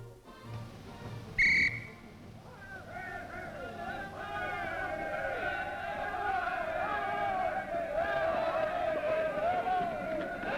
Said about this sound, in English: I stood on a company street as the sound of a whistle pierced the air.